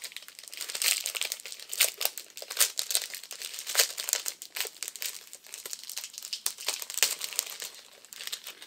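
Thin tissue paper crinkles and rustles continuously as an item is unwrapped close by, with dense crackling that swells in irregular bursts and no voices.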